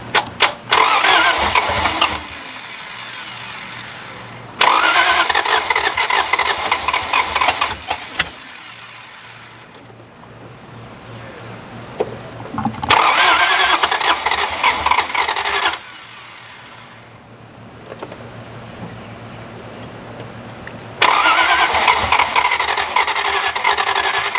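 A 1951 Chrysler Saratoga eight-passenger limousine, unstarted for over 30 years and prone to flooding, cranks in several loud bursts separated by quieter gaps with a low idle hum, over and over.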